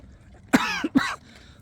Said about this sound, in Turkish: terleyince de öksürük başlıyor